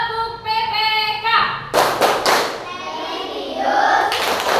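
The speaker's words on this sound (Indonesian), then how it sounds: "kita tepuk PPK biar tambah semangat. Yuk, tepuk PPK." A school class performing the PPK clapping routine; children's voices chant while rhythmic group hand claps and thumps come in bursts partway through, mixed with the chanting.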